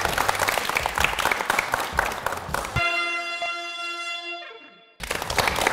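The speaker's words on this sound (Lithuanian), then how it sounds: "Plojimai jai." A studio audience on a Lithuanian local television talk show claps loudly and densely. The applause cuts off for a ringing chime jingle that fades away, then the clapping bursts back in.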